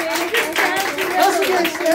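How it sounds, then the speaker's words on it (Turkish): Hands clap at a family circumcision celebration for a young boy: a short burst of close clapping mixed with lively voices talking and cheering. "Bir alkış alalım."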